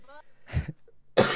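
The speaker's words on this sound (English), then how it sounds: "You have to be glad I'm coughing and dying anyway at the moment." Two short, harsh coughs from one person, close and fairly loud, separated by a brief pause, with a faint tonal sound just before the first.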